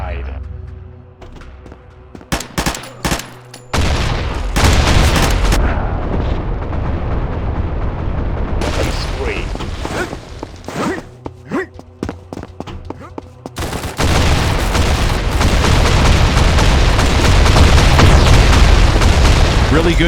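Grenade explosions and gunfire in the shooter Blindfire come as sharp booms and bursts of rapid shots. They run in clusters with brief gaps, then build into a continuous loud barrage near the end, and voices talk throughout.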